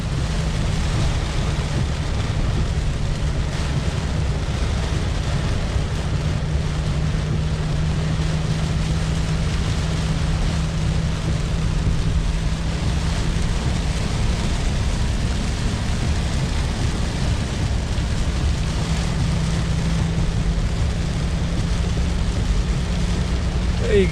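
Rain falls steadily on and around a car, a dense continuous hiss over a low engine-like hum, unchanging and fairly loud throughout.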